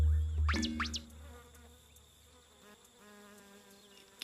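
Flies buzz around a troll in a cartoon, a loud close whining buzz with quick swooping pitch sweeps at the start, then a faint low hum with small clicks.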